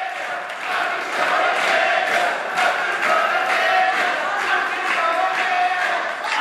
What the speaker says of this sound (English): the crowd singing Oakey's going to get you